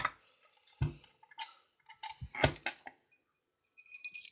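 A bunch of keys jangles and clicks in short, bright, metallic bursts close by, scattered and irregular, with no one talking.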